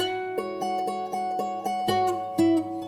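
Guitar sample processed with added effects in a hip-hop beat, steady sustained chords with rhythmic plucked attacks and a bright, washy tone, playing alone at moderate level.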